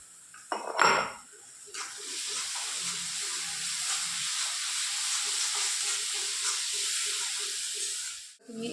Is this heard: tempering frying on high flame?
yes